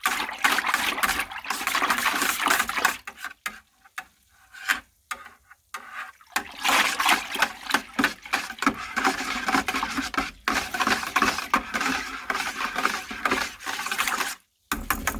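Bread yeast is whisked into yellow watermelon wine must in a container, giving rapid, close liquid swishing and scraping strokes in uneven bursts with a few short pauses.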